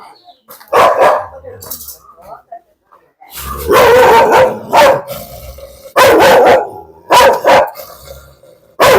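A dog barks loudly and sharply in bursts, several harsh barks close by, separated by quieter gaps with faint background sounds.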